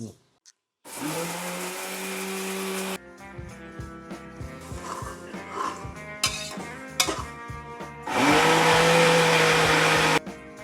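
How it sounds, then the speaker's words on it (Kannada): A kitchen mixer grinder grinds roasted spices into a coarse paste for vangibath. Two loud, steady whirring bursts run close up, with clattering and handling sounds in the pause between them. "ಹುರಿದಿದ್ದೆಲ್ಲ ಮಿಕ್ಸಿಗೆ ಹಾಕೊಂಡು ಸ್ವಲ್ಪ ಪೇಸ್ಟ್ ತರ ಮಾಡ್ಕೊಳ್ಳೋಣ"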